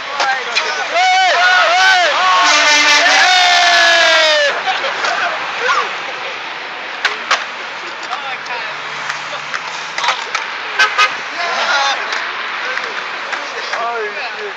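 A truck horn blares near a construction zone in long, sustained blasts for about four seconds, then drops away under excited voices talking and shouting nearby.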